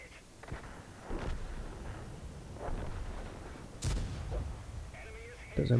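Tank cannon shots in World of Tanks battle gameplay, a few sharp booming blasts spaced several seconds apart over quiet background ambience, with a voice talking.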